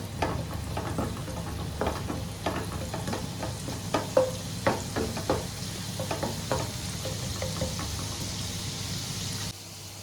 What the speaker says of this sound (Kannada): ಇದನ್ನೀಗ ಒಳ್ಳೆ ಫ್ರೈ ಮಾಡಬೇಕು.